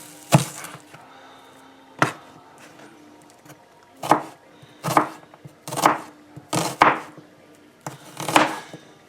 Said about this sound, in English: I will cut thin slices.